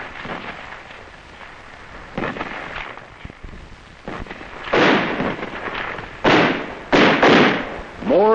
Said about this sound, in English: It was quickly met with small arms and mortar fire.